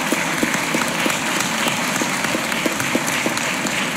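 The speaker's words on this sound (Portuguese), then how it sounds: "Peço uma salva de palmas à dona Maria Adelaide Penaforte Pinto Queiroz" Sustained, even applause from a crowd during a solemn ceremony in a legislative chamber honoring a widow, with dense clapping throughout and a few sharper individual claps standing out.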